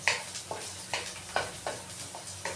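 Garlic and onion sautéing in a pan, a soft steady sizzle punctuated by regular spoon scrapes and taps roughly every half second, close by and moderately quiet.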